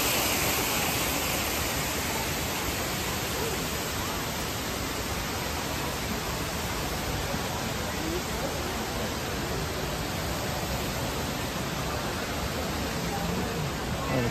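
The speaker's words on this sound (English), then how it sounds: "Waterfall inside the hotel." Indoor waterfall inside the grand old Opry hotel in Nashville, Tennessee, a steady broadband rush of falling water that holds constant throughout, loud and continuous with no clear voices over it.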